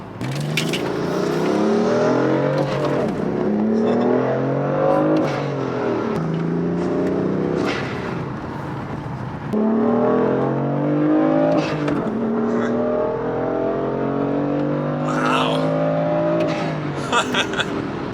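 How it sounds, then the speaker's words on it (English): A six-speed BMW M4 engine revs hard and close on back roads, its pitch climbing again and again through several gear changes, with voices talking over it. "There's just like the way these things pull are incredible."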